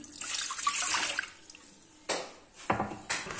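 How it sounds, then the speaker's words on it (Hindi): Water is poured into a pot for making noodles at home, a splashing stream followed by several short bursts of pouring and dripping, close and alone. "अब हम लोग सबसे पहले 4 कप पानी डालना है इसमें।"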